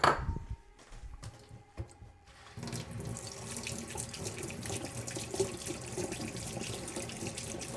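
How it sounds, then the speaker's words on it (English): Running water from a sink tap pours steadily as hands are washed, starting after a few quiet seconds of clattering and continuing as a close, constant rush. "I have to wash my hands"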